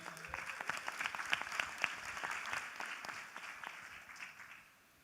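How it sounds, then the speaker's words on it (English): Conference audience applause at an investment event, many hands clapping in a full, crisp patter that swells and then fades out toward the end, with no talk over it. "Round of applause, ladies and gentlemen."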